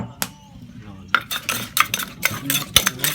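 A spoon and ladle stirring and scraping in a cooking pot, with clinking metal strikes and busy clattering after a brief quieter start, alongside a faint sizzle.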